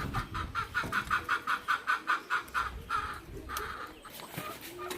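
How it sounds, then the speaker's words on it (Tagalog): Rapid, rhythmic clucking from a native chicken, a quick run of sharp pulses that slows into a few looser calls, with faint outdoor background noise. "Ayun ang manok, baka makawala pa"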